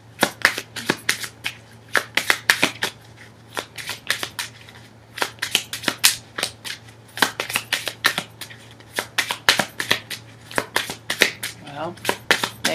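A tarot deck being shuffled at close range: rapid bursts of riffling card clicks in repeated runs with brief pauses between, over a faint steady hum.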